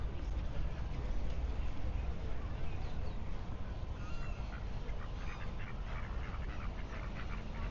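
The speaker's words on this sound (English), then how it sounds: "Look at the ducks." Ducks quack repeatedly over a constant roar of wind or outdoor noise at an outdoor lakeside art festival, the calls fairly faint and partly masked.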